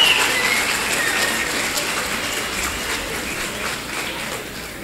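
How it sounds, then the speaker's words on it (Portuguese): Applause from the audience at a public hearing in Três Passos, a steady dense wash of clapping that fades slightly over a few seconds, with no voices over it. "uma salva de palmas"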